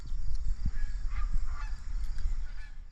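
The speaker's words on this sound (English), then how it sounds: "We got the geese flying over like crazy." Geese honking as they fly over a dahlia garden, several faint-to-moderate calls scattered over a few seconds above a low rumbling background.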